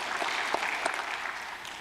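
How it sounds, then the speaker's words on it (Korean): A church congregation claps briefly in encouragement, a soft, fairly even patter of hands with a few sharper claps standing out. "옆에 있는 성도들 정말 어려운 가운데 있었다고 박수로 우리 한번 크게 격려합시다"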